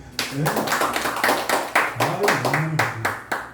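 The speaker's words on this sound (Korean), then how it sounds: "박수 한번 치세요" A church congregation claps in a steady, regular beat, the sharp hand claps landing in time while voices carry on underneath.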